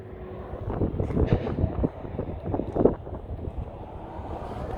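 Wind buffets a microphone outdoors, producing a continuous low rumbling roar with gusty surges, close and steady throughout.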